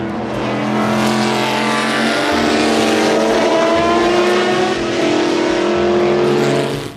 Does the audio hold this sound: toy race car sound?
yes